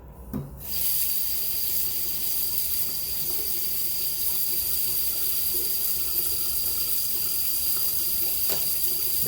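Steady broadband rush of water running from a bathroom tap while shaving soap is rinsed off, continuous and fairly close, with a brief quieter moment at the very start.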